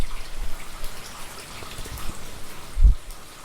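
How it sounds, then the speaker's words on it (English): Light to moderate rain from Hurricane Ian, with very low winds, falls faintly and unevenly outdoors, soft patters and drips scattered over a quiet background, with one brief louder thud near the end. "we're getting some light to moderate rain with very low winds here"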